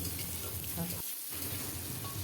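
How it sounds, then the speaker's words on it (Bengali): Pennywort (thankuni) leaves are stirred and fried in mustard oil in a wok, giving a steady crackling sizzle that drops out briefly in the middle before picking back up. "এখানে আমি থানকুনি পাতা একটু হালকা করে তেলের মধ্যে নেড়ে তুলে নেব"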